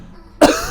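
A single sharp, loud cough bursts out close up after a brief quiet moment inside a car.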